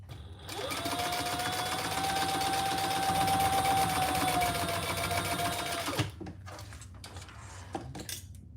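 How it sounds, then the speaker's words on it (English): Sewing machine top stitching a fabric pouch, a steady close mechanical whir with a faint tonal hum running for about five seconds, then stopping and giving way to quiet handling knocks. "I'm gonna do a little top stitch."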